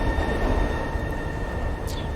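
Ambience inside a moving subway train car in the video game Vampire The Masquerade, a loud continuous rumble of wheels and carriage with a steady high whine and a brief squeal near the end.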